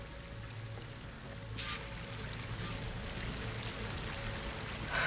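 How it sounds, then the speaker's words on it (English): A waterfall in the video game Horizon Forbidden West gives off a steady, moderately faint rushing wash of falling water that runs continuously without pause, with no talk. "That waterfall must be coming from somewhere."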